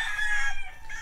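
A rooster crows among many chickens at a small backyard game farm, a loud, close, drawn-out call with no talk over it.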